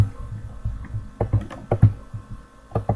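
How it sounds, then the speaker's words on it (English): Keys on a computer keyboard are struck in short, irregular bursts of soft clicks close to the microphone, with quiet pauses between clusters. "What I'm going to type in is Vexed Cinema."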